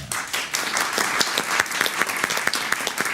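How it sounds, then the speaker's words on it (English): A quiz show audience applauds steadily for a few seconds, dense overlapping claps at a lively, even intensity. "We want to give a big round of applause to the coaches for both our teams."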